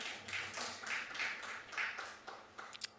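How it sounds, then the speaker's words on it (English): A city council chamber audience in Costa Mesa claps in several short bursts of applause, moderately close, with a couple of sharper isolated claps near the end and no talking. "Clapping is back in chambers in the city of Costa Mesa."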